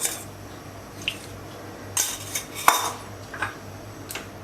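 A metal spoon clinks lightly against a kadhai on a gas stove as ghee is added, giving a few scattered, quiet taps and scrapes with no talking.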